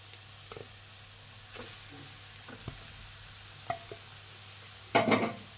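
A spoon stirs a mashed potato and onion mixture for aloo bonda, making soft scattered scrapes with a louder clatter and sizzle at the end. The scraping is close and no one speaks.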